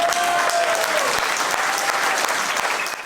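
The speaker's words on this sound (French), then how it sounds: "Il faut applaudir, s'il vous plaît." An audience at a Jaguar Type E gathering marking the model's 60th anniversary gives loud, sustained applause, with many hands clapping densely together for about three seconds before it starts to taper off.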